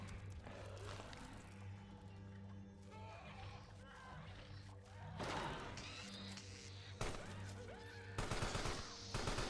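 Rapid bursts of gunfire in the video game Escape from Tarkov, loud and near, recurring through the clip with a sharper burst near the end, mixed with game ambience and a steady low hum.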